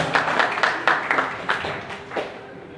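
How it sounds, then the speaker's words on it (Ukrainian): An auction crowd breaks into applause, several uneven bursts of clapping rising and fading across the short stretch, fairly close and without speech over it. "Гарні аплодисменти"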